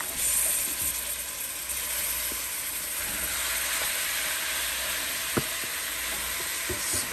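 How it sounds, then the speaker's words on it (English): Chicken pieces sizzle in a pot for Jamaican curried chicken, a constant close frying hiss with a few scattered clicks and pops. "That nice sizzle."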